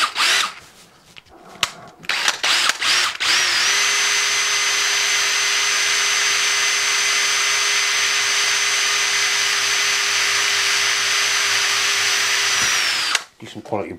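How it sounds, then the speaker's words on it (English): Hand-held drill boring into brass parts for a Stuart steam engine restoration, a loud steady high-pitched whine running for about ten seconds after a few short starts and clatter, then stopping abruptly. "just going to drill these by hand. Brass has a tendency to snatch when you drill it"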